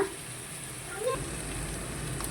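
Cut, washed potatoes go into a hot pan and sizzle, a steady, close, moderately loud frying hiss that picks up slightly as they land.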